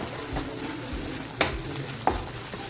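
Steady frying sizzle in a pan on a home kitchen stove, with two short sharp clinks of a utensil against the pan standing out over the continuous hiss.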